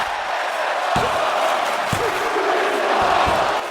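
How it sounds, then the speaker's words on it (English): Roaring arena crowd noise from a WWE 2K24 wrestling match, a steady loud wash of cheering with a few dull slams breaking through at intervals. "The crowd is going wild"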